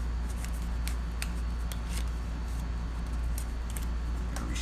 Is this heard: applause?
no